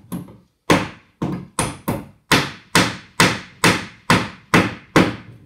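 Ordinary nails driven into pallet wood with a hammer: about a dozen sharp, loud strikes in a steady rhythm, each ringing briefly before fading, close by.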